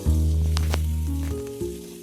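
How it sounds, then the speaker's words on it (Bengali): Onion, chilli, panch phoron and bay leaf sizzle loudly in hot mustard oil, a steady frying hiss up close with a low hum underneath and faint clinks of stirring. "সব কিছু দিয়ে দিচ্ছি ভাজতে ভালোভাবে ভেজে নেব"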